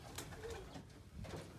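A pigeon sitting on eggs in a coop gives a soft, low coo, faint and close against quiet room noise.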